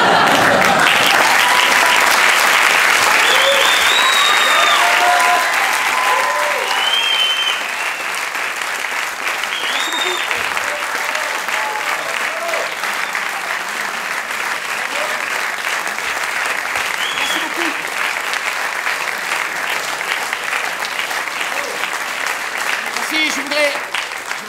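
A large audience at the Paris improv festival claps loudly and continuously, a dense, sustained ovation that eases slightly after the first few seconds and then holds steady with occasional whoops rising above it.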